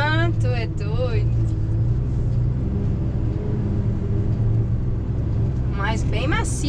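A truck's engine drives and accelerates as a deep, steady low rumble throughout, with people briefly talking over it at the start and again near the end.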